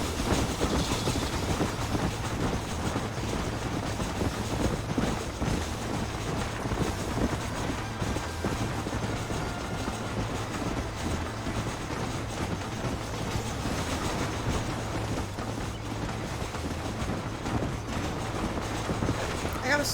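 A train rolls steadily along the rails in the Red Dead Redemption game, a continuous loud rumble with a low droning tone and faint rhythmic clatter throughout.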